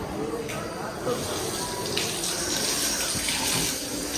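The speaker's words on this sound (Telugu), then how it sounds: "కాళ్ళు అయితే కడిగేసుకుంటున్నాం." Water runs steadily from a tap in a temple washroom while feet are washed, a close, continuous hiss with faint splashing underneath.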